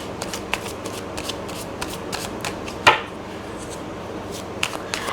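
Tarot cards are shuffled by hand for a Gemini reading, with a run of light, quick riffling clicks and taps and one sharper snap midway, close and without speech.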